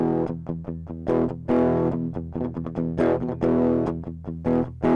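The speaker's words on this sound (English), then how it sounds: "we could find some nice distortions from Tonberg, including the tube simulator" Electric guitar played through the Tonberg tube simulator distortion plugin in Cubase rings out in crunchy, saturated notes and chords, picked in uneven bursts with sustained, gritty tails and no voices.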